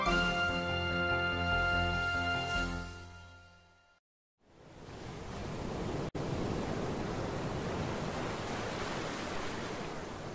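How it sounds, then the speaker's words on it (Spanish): Sea waves wash steadily onto a beach, a broad continuous roar of surf that fills the second half after a brief silence, with a different tonal sound in the opening seconds. "Huele el mar. ¡Y cómo me gusta su sonido!"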